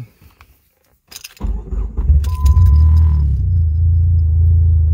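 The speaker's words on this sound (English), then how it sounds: "Okay, and then you turn on the car." A Dodge SRT4 being started: a brief key rattle and click, then the starter cranks and the engine catches into a loud, steady, close idle rumble.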